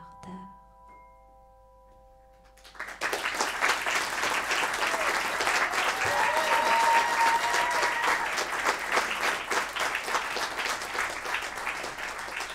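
An audience gives a performer a loud, sustained round of applause after a song, starting abruptly following a quiet stretch and holding steady to the end.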